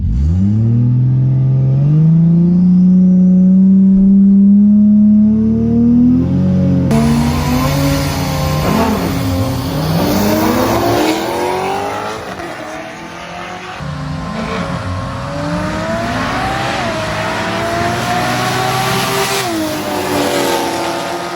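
A TH400-equipped drag race car roars loudly at full throttle, its engine note sweeping upward through gear changes as it races a C6 Z06 six-speed, sustained and close with no talk.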